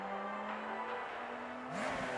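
A car drives and revs, its faint, steady engine whir humming along. Near the end it rises into a sharper, climbing rev.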